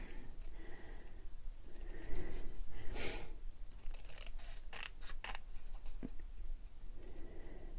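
Scissors cut neatly around a stamped paper card, leaving a border, producing a series of crisp, close snips in an uneven rhythm with faint paper rustling between cuts and no speech.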